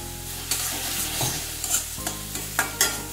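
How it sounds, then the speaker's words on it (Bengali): Ginger paste with turmeric frying in a little oil and stirred in a pan for a vegetable dal, with a steady close sizzle and repeated scraping strokes of a spoon. "আদা বাটাটা আমি একটু কষিয়ে নিচ্ছি"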